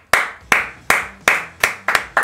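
Hand clapping nearby, about seven sharp claps in a fairly steady rhythm that quickens toward the end, each clap ringing briefly in a room, with no talk over it.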